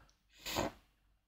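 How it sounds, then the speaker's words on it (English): A single short throat clear or snorting cough, close and fairly faint, rising and fading within half a second against quiet background. "sorry if I keep having to clear my throat"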